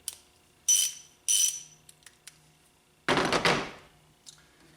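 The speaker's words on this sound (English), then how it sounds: "Half-inch ratchet. Mechanism feels pretty good." A TEKTON half-inch ratchet is handled, giving two bursts of quick mechanical clicking, then a few light knocks and a longer louder rattling burst, close and without talk.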